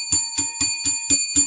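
A show host taps a small desk bell six times in a quick, even rhythm. Each ding rings bright and close, and a steady high ring hangs between the strikes.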